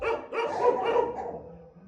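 Several dogs bark together at an animal shelter yard during cold weather, a dense, steady chorus of overlapping barks close by for the whole short stretch.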